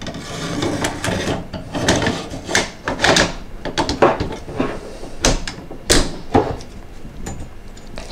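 Metal clacks and rattles as the barrel of a CETME Ameli light machine gun is slid back in and the hatch is shut, a rapid series of sharp, close mechanical clicks and knocks.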